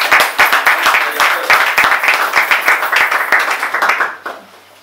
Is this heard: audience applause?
yes